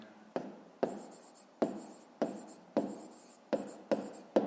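Pen writing by hand on paper, a regular series of scratchy strokes, each starting with a crisp tap and fading, close and quiet with no talking.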